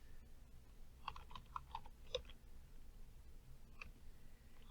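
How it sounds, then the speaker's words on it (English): Faint, sparse keystrokes on a computer keyboard while data is entered in a spreadsheet, a short cluster of light taps followed by a couple of isolated clicks over quiet room noise. "So in A1, it wants me to type in electronics and press enter."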